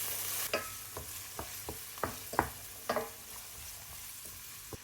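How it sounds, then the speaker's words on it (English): Cashew pieces fry in a pan, giving a faint sizzle under a series of soft scraping clicks from stirring, irregular and close. "Add 1 cup of cashews, no need to be whole, and continue frying for another 5 minutes until they take on a golden"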